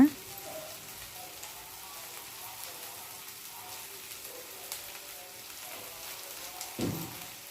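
Two spoons of chili powder hit a hot pan over a raised flame, with okra pieces for a village-style okra and egg curry, giving a soft, steady sizzle and crackle that swells briefly near the end.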